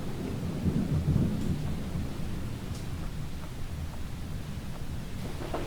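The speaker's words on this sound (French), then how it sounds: "J'entends l'orage, mais il pleut pas." A deep, continuous rumble of video game thunder rolls under a steady hiss like distant rain, with no voices.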